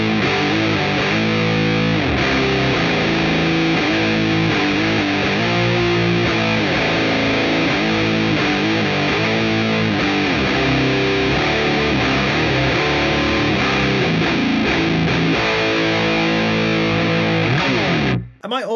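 A heavily distorted metal guitar plays through a Mooer Prime M2 with a custom EQ, loud, dense chugging riffs and sustained chords ringing out for most of the passage before a sudden stop.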